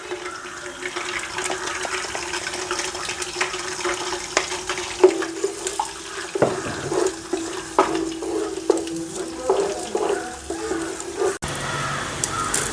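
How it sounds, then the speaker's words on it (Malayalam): Soft frying sizzle of four salted beaten eggs in a pan with scraping and stirring knocks, some watery sounds, no voices. "ഞാനൊരു നാല് മുട്ട എടുത്തിട്ടുണ്ട് ഉപ്പിട്ടിട്ടുണ്ട് അത് ഇതിലേക്കിട്ട് നമുക്ക് വറുത്തെടുക്കും"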